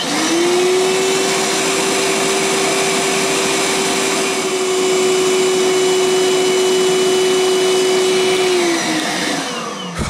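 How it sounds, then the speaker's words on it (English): A Milwaukee M12 cordless vacuum runs on high power, a loud, steady whine with a constant tone that holds for about eight seconds before winding down, with no voices over it. "I'm gonna throw it in the vacuum and put in high power, of course, and see whether this 4 delivers more amps than the 2"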